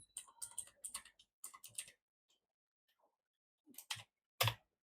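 Typing on a computer keyboard while coding a Python program, with bursts of clicky keystrokes in quick runs, broken by pauses and a few isolated louder key presses near the end.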